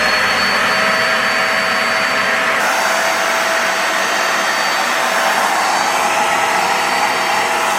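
Vax Spotwash carpet cleaner running on a sofa, a loud, steady motor whine and suction roar that continues unbroken for several seconds with a slight shift in tone partway through.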